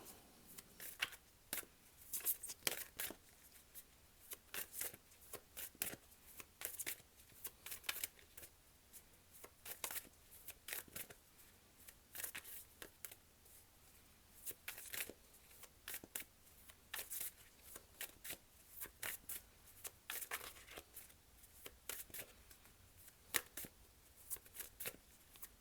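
Tarot cards from the Yogic Path deck are shuffled close by in repeated bursts of quick, crisp riffling and flicking, separated by short pauses, soft and alone throughout.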